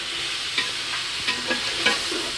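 Macaroni being stirred in a hot pan gives off a steady sizzle and frying hiss, with a few soft scraping stirs of the spoon standing out above it, heard close with no voices.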